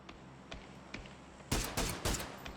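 Gunfire in the video game PUBG: a few faint distant shots, then three loud, closely spaced rifle bursts ringing out near the listener.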